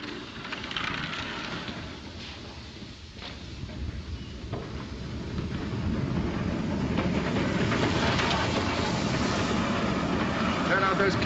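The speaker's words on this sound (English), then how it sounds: "The train's coming in." A train rumbles and rolls in steadily, growing louder toward the end, with a hissing and rhythmic rail noise and some voices in the background.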